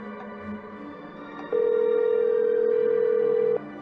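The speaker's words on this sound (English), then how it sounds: "We gotta make another phone call real quick." Cell phone in the Nancy Drew game The Haunted Carousel placing a call: a soft click, then a steady single-pitch tone lasting about two seconds before stopping abruptly over quiet game ambience.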